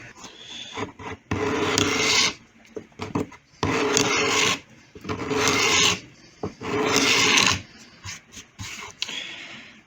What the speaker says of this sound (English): This is what's called a gooseneck scraper.